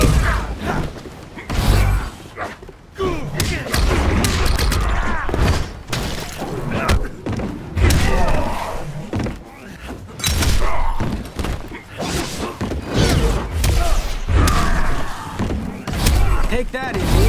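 Punches, kicks and body impacts land in a Mortal Kombat XL fight involving Johnny Cage, with repeated heavy thuds and slams in a busy, loud rhythm, mixed with announcer calls and fighter voices.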